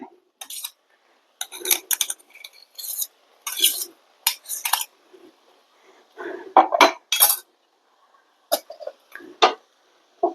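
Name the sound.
mashing boiled cassava with crushed green chilli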